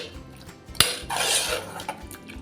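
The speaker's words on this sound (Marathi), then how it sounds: "मिक्स करून घेऊया आणि दोन ते तीन मिनटं व्यवस्थित आपण परतवून घ्यायचं आहे" A prawn and spring onion masala is stirred and sautéed in a pan over medium gas: a sharp metal clank of the utensil against the pan, then a short swell of sizzling and a few softer scrapes, heard up close without speech.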